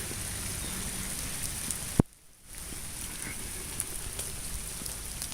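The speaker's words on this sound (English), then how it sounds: "It's chilly and cold. It's wet. It's rainy." Steady rain falls outdoors on a chilly, wet night, a dense even patter throughout, broken by a single sharp knock and a momentary near-silent dropout before the downpour resumes.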